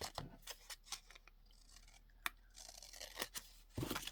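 Scissors snip tea-dyed paper for a collage, a string of quiet, close, crisp cuts with a few sharper snaps in between.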